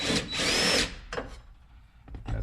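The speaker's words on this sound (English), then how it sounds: "it's a 1/8 drill bit that you want to use" A power drill with a 1/8 inch bit drills rivet holes while fixing an OBS truck door: a close, loud high whine for under a second, then a couple of short whirring bursts and clicks.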